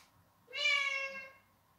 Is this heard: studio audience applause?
no